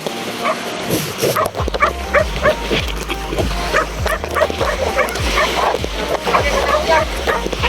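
Several dogs bark and yip repeatedly at close range, with whimpers mixed in, over constant outdoor background noise and some talking, on Minasawa Island, Burdeos, Quezon.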